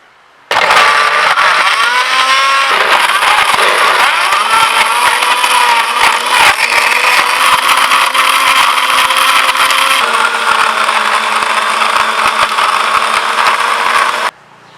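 A mixer blends Dairy Milk chocolate with ice cream and milk, running as a loud, steady whir for about fourteen seconds, its motor pitch dipping briefly as the load shifts before settling, then cutting off.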